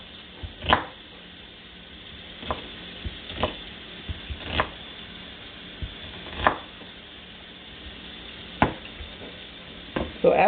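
Knife chopping ingredients for a seafood boil on a cutting board, a handful of sharp, separate thuds spaced irregularly over quiet kitchen background, no talking.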